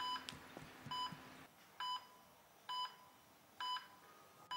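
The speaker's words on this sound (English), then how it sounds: "you have a phone call" A hospital bedside telephone gives an incoming-call signal: repeated pairs of bright electronic beeps at a steady rhythm, clear and close, with a low hum at the start and no talking.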